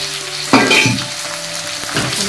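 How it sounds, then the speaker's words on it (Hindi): Tomatoes drop into a hot pan of sliced garlic and green chillies for egg keema, setting off a loud, close sizzle that swells with each addition and keeps crackling steadily, with no talking. "अब इसमें हम टमाटर भी डाल देंगे"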